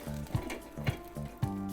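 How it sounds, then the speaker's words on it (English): Air-fried mango chicken sizzling in an air fryer, a soft steady crackle under a low mechanical hum, with three faint thuds spaced evenly through the short stretch. "Sizzling."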